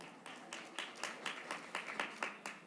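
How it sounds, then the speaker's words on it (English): A small group claps in a board of education meeting, faint and sparse, with a handful of distinct, loosely rhythmic claps heard at a distance. "We'll clap for them as well."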